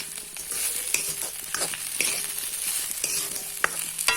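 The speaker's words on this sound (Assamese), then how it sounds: "অকণমান এনেদৰে লৰাই ল'ম।" Fish sour curry being stirred in a pan, a continuous close sizzle with regular scraping strokes of the spoon roughly every half second.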